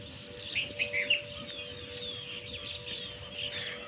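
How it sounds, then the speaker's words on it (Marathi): Sparrows chirp at sunrise in a busy overlapping chatter of quick high calls, a few brighter bursts early on, over a steady low background hum, moderately distant and without speech. "चिमण्यांच्या पक्षीच्या आवाजाने सकाळी मॉर्निंग किती छान होती"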